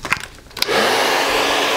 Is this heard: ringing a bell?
no